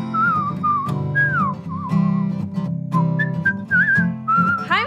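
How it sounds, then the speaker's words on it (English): Melodic whistling drifts from a singing studio, a continuous tune of sliding, warbling notes carried over a steady low background hum with no talk. "that whistling is coming from Mr. Music's singing studio"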